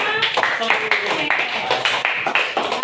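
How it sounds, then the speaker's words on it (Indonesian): Classroom students clap for a presentation group in a brisk, rhythmic burst of close hand claps, with a voice speaking over them. "tepuk tangan buat kelompok Jessica."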